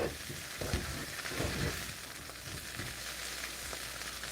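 Potatoes fry in a pan for breakfast with a soft, continuous sizzle and faint crackles, heard quietly and up close, with a few light scrapes and no talking.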